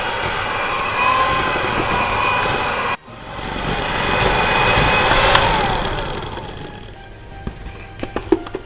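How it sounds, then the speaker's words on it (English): An electric mixer beats room-temperature cream cheese for cheesecake-swirled brownies with a loud, steady motor whir. The whir cuts out briefly near the start, then runs on until a few sharp knocks at the end. "And now I'm going to beat this for about a minute"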